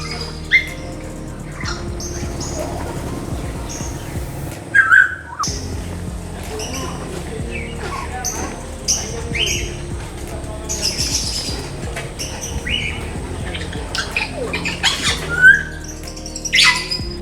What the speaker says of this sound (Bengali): এইখানে আসলে আপনি বিভিন্ন ধরনের টিয়া পাখি দেখতে পাবেন যেমন কাকাতুয়া বার্ড আর দেশি যে সকল টিয়া পাখিগুলো রয়েছে সেগুলো আর এখানে আসলে আপনি টিয়া পাখির এত আওয়াজ শুনতে পাবেন